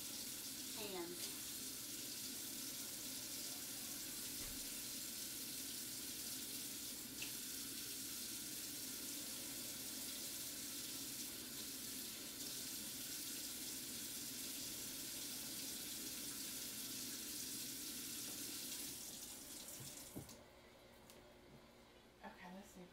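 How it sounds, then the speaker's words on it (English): Tap water runs steadily from a faucet into a sink for about twenty seconds while a face mask is rinsed off by hand, a continuous close hiss that cuts off near the end. "I was thinking that I could just wash it off with my"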